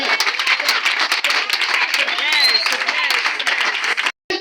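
Congregation at a Sunday church service applauding, a dense, steady wash of many hands clapping close by, with voices mixed in throughout and a brief drop near the end.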